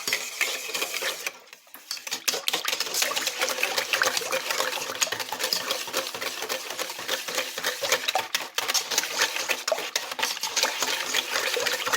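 A spoon scrapes and clinks against a bowl while stirring a bread pudding mixture of milk and margarine, rapid irregular tapping and scraping, close and continuous with a short pause.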